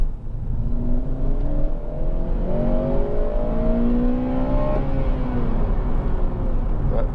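A 2007 Honda Civic Type R GT with a 2.0 i-VTEC engine accelerates hard in second gear, its engine note climbing steadily in pitch as revs rise, loud and close from inside the car.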